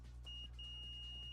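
Continuity beeps from a multimeter probing the hot line of an arcade power supply: one short tone, a tiny gap, then a held steady beep, crisp and near above a constant low hum.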